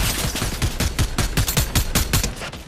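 Rapid, evenly spaced shotgun blasts in Fortnite boom one after another in a fast, loud, close rhythm, with no talking over them.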